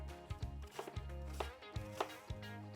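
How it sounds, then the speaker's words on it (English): A knife cutting fruit into pieces for a cherry jello salad, a quiet series of irregular soft chops and thuds on a cutting board, close and alone. "I slice into chunks, then slices, and then across the slices to get pieces."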